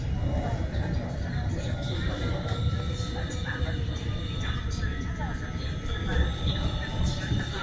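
Steady rumble of a train rolling on rails, with continuous rattling and faint clacks throughout, heard from inside under low background voices.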